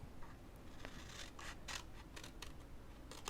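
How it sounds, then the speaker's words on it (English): Scissors snip through a card flap on a papercraft project, a series of short crisp cuts spaced irregularly, close and fairly quiet against a soft background hiss. "I'm going to cut away this bottom"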